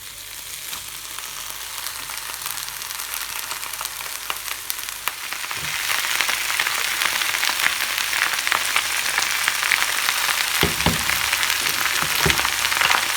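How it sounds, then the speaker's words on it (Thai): Wild garlic and chili stir-fried in oyster sauce sizzle steadily in hot oil, the hiss growing louder partway through, with occasional scraping and clinking as the pan is stirred. "วันนี้ก็จะผัด น้ำมันหอยอะค่ะ ผัดแบบผัดน้ำมันหอย ก็พริกกับกระเทียมเยอะหน่อยนะคะ"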